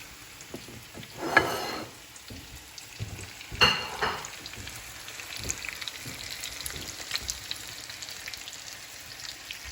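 Breaded chicken cordon bleu fries in a hot pan, a low steady crackle running throughout with a couple of louder sizzling bursts as pieces settle into the oil, with no one speaking.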